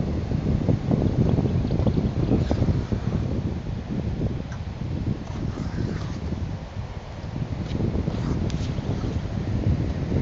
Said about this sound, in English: I'm just doing it slowly, guys, because it's pretty windy here and I don't want everything blowing everywhere.